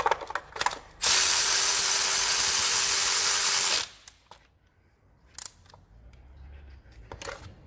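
A wrench tightens bolts to torque on a Mini Cooper during service, giving a loud, steady mechanical ratcheting run of about three seconds, followed by a few brief clicks and clanks of tools nearby.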